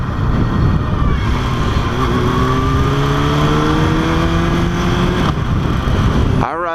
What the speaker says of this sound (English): I ride a 2003 Yamaha R1